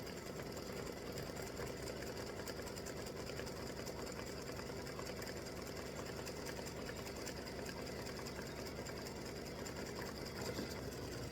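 An embroidery machine sewing a satin stitch on fabric, a steady fast mechanical whir and needle chatter running without a break, close and even in level.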